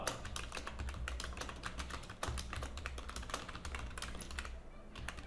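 Fast, light clicking of a computer keyboard while a blog post is typed, quiet and close, with irregular bursts of keystrokes that continue for the whole stretch.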